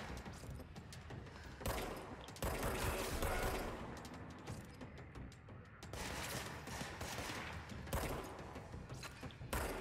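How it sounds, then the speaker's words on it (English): Bursts of rapid gunfire from the video game Control, loud, dense automatic volleys with booming impacts and thuds, nearly continuous across the clip with brief lulls between. "that gun sound is so satisfying"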